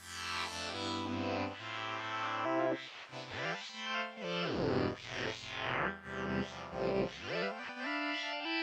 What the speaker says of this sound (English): blurs everything like a reverb, but in a different way,